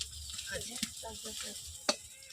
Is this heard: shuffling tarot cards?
no